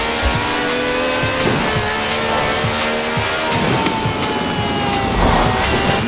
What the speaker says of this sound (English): The Stig's warming up the tyres. A good old-fashioned rolling burnout.